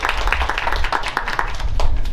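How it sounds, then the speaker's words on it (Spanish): Audience applause at a sixteenth-birthday celebration in Bustamante, Tamaulipas, with steady dense clapping throughout, fairly loud and close, over low background rumble. "Un aplauso para los ya y Anexas."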